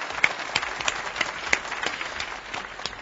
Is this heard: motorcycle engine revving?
no